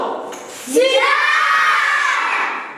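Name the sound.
children imitating a jackal's howl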